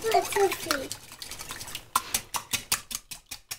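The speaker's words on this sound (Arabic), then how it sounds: "نحاول نخفقهم لغايه الغايه" Eggs being whisked in a bowl with vanilla sugar, quick rhythmic clicking strokes close up that grow sharper and more regular, with a voice talking over the start.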